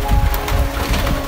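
Heavy rain falling outdoors, a dense close wash of drops with rough low rumbling, loud and continuous over a brief moment.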